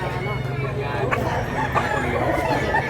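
A rooster crows amid a busy Cebu chicken market where medium-sized roosters are sold, the call rising over steady crowd babble and nearby voices throughout.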